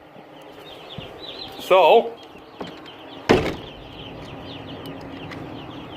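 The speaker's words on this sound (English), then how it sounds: "there's the baby chickens." Baby Cornish cross meat chicks in a barn holding about 350 birds, giving a burst of high chirps and cheeps amid a busy background, with a door clunk and brief speech nearby.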